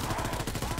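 MG42 machine gun firing in Call of Duty WWII Zombies, a brief rapid burst of closely spaced shots in a fast, even rhythm, loud and close.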